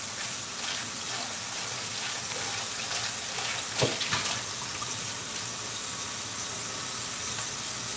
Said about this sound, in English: I was just draining some water out of the plantains because I think I put too much water